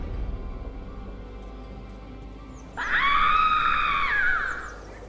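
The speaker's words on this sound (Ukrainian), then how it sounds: "Що там за крики?" Screams ring out in the video game Lucius, a sudden loud, wavering shriek that bursts in after a quiet stretch, holds for about a second and a half, and then fades.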